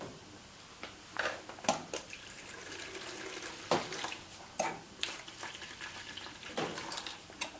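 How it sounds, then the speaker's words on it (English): Water hisses steadily through a valve as a beer tap system is purged, with irregular splashes and spurts breaking in, fairly quiet and close, no voices. "You want to purge water through the system."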